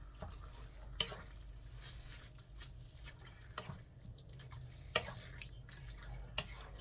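Meat scraps simmer in a pot for a long stew, giving a steady low bubbling with occasional sharp drips and pops, close by and moderately quiet.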